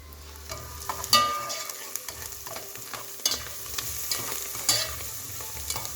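Onions sauté for a goulash stew, with a soft sizzle in the pan and intermittent scraping and clacking as a utensil stirs them, close and moderately quiet, with no talking.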